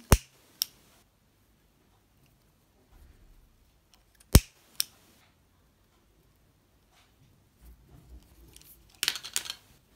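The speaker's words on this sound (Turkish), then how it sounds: "Ben burada hemen ipimi kestim ve yakıyorum." Crochet yarn being snipped with scissors before its thread end is burned: a few sharp, isolated snips and clicks close by, separated by long stretches of near silence, with a brief cluster of small clicks near the end.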